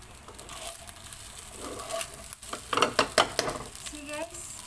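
Leftover fried rice sizzling softly in a pan while being stirred, with scraping and light clinks of a utensil against the pan rising and falling, the sounds moderately close and fairly quiet.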